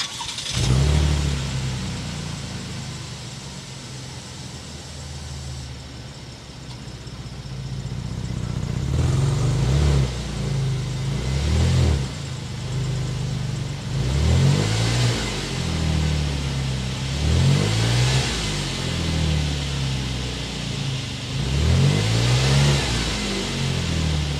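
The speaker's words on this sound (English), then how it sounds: "start it up so you can hear that exhaust note" A 3.6-liter V6 in a 2023 Buick Enclave SUV starts up and idles close by, then revs several times in rising and falling sweeps, its deep exhaust rumble loud and clear.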